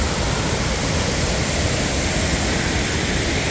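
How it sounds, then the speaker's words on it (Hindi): A large waterfall at Betws-y-Coed in Wales roars as a steady, dense broadband rush of falling water, loud and close throughout with no voices. "है तो बहुत बड़ी फॉल"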